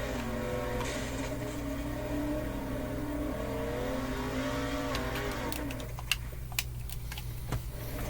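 A sprint car engine in the World of Outlaws '23 video game drones with a steady harmonic whine through a practice lap for about six seconds, then drops away, leaving sparse sharp clicks.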